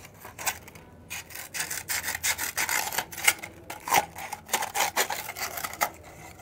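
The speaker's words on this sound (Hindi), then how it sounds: "आप देखिए कि मैं किस तरीके से मैग्नीशियम रिबन को रेगमाल से रगड़ रही हूँ" Sandpaper rasps against a thin magnesium ribbon in quick, uneven back-and-forth strokes, dry scratching that comes close and fairly loud, with no talking.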